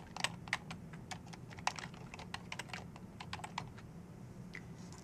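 Computer keyboard keys tapped at a steady, uneven typing rhythm while filling in an email, close and clear with no talking.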